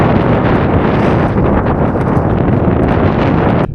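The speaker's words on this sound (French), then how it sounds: "Aujourd'hui, un vent terrible." Violent headwind roaring against a cyclist pedalling on a road toward the far south, a loud continuous buffeting rush over the microphone that drops off sharply at the end.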